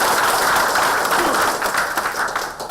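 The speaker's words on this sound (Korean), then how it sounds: "여러분 큰 박수" Audience applause at a political policy meeting with local trade association leaders in Gimpo, a dense steady clatter of clapping that stays loud throughout and tapers slightly toward the end.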